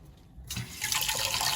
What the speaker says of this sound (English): Then I'm going to fill this the rest of the way with water.